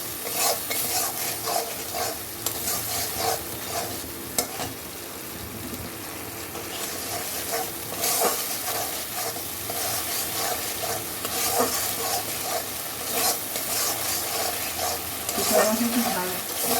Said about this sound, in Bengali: সামান্য একটু জল দিয়ে মশলাটা কষে দেবো।